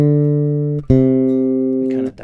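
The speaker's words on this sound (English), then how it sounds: "on the C on this bass is kind of a dead spot" Two low bass guitar notes on a dead spot at C, played one after the other, each holding for about a second before cutting off quickly.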